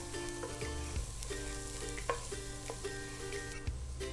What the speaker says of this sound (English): I'm gonna add the garlic, give it a little stir.